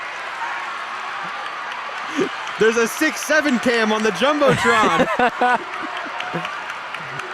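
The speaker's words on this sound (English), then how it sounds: "the crowd goes wild" In a college women's basketball arena during Cincinnati versus Xavier, a crowd cheers and claps after a free throw, the noise swelling in the middle while a commentator talks over it, then fading back to a murmur.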